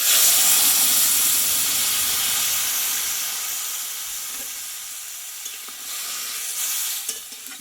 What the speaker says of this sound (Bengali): এবার এই পেঁপেটা আমি দিয়ে দেবো